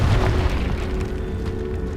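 A Confringo fire spell from the video game Hogwarts Legacy bursts in a loud, low boom that rumbles steadily for about two seconds, with no pause or talk over it.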